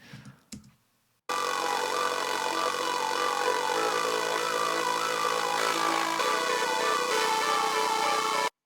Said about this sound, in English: this bass track, it's not a real like sub bass, it was just a simple saw wave